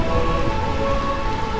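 Steady, loud rainfall in the Final Fantasy IX video game, heard in a realm of endless rain, a dense constant downpour with a faint tonal hum beneath.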